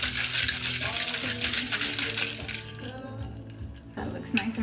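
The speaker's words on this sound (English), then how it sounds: "Give it a good shake until your tin is nice and frosty." A spicy mango margarita is shaken hard in a metal cocktail tin, giving a loud, continuous rattle of ice against metal that eases briefly before a final burst.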